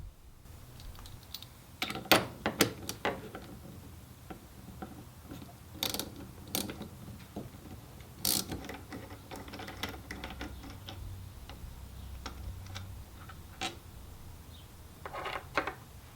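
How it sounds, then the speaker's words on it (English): Ratcheting tool unbolting the cartridge screw at the bottom of a WP AER48 motorcycle fork, with a quiet series of sharp clicks and metallic ratchet bursts spaced irregularly over a low background, no talking. "unbolt the cartridge screw at the bottom of the fork"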